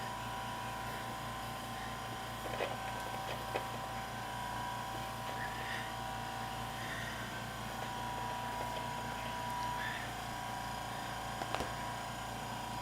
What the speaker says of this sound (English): How loud is that compressor?